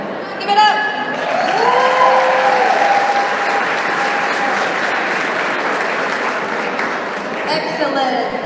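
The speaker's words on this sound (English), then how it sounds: "Please give a round of applause for our wonderful panelists as they come right in." Audience applause and cheering for panelists walking on stage at a conference session, sustained dense clapping with voices and whoops over it, loud and continuous, easing slightly near the end.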